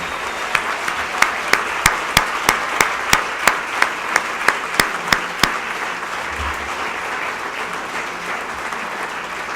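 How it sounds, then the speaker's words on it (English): An audience at a healthcare awards ceremony applauds an award winner, a dense sustained wash of clapping with a run of sharper individual claps standing out near the front before the applause settles into a steady roar. "I think the applause says it all."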